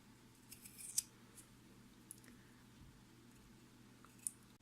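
A knife slicing into a raw potato being carved into a face, giving a few soft, faint cutting clicks and squishes spread across a quiet stretch, with no talking.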